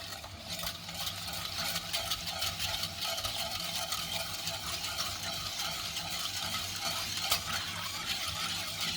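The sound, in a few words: stirring sugar into tea to dissolve it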